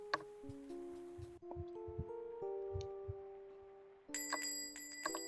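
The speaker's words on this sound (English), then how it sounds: "the shopkeeper's bell ringing feverishly" A shopkeeper's bell on a shop door rings in quick, jangly bursts, set against a rainy night and a game's background music, fairly faint and repeating in short clusters.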